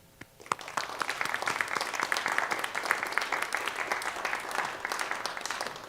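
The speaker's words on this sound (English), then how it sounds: "Please join me in a round of applause to Kyle Gull from the Cascadia Biped and the VFW Regional Color Guard." Audience applause at a college Memorial Day ceremony for a VFW color guard: a brief lull, then a sustained round of clapping from a moderate crowd, with sharp individual claps standing out near the front.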